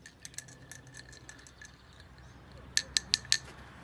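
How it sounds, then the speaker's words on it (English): A spoon stirring lemon citrus cordial in a glass with a lemon wedge, a run of faint clinks followed by four sharp, bright taps against the glass near the end, close and quiet. "pop that, give it a quick stir"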